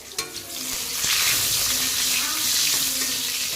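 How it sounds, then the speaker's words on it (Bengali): Meat sautéing in a pan, a loud, steady frying hiss that builds after a couple of soft knocks and continues with occasional stirring, no voices. "আমি মাংসটা কষাতে দিয়েছি"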